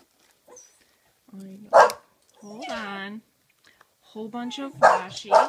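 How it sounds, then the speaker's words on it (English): A dog barks several times indoors, loud and close, with sharp barks and some whining between them while someone talks. "that's my dog running around"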